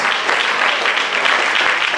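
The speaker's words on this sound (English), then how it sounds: "If you believe it, clap your hands" A church congregation claps together during a sermon, a dense and steady wash of many hands that fills the space for the whole stretch.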